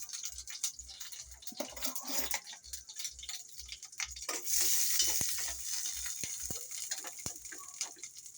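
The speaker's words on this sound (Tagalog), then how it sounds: "Ayan na, kumukulo." Chopped onion and tomato fry in hot oil, giving a soft sizzle that swells into a loud, steady hiss halfway through, broken by scattered clicks and scrapes of stirring close by.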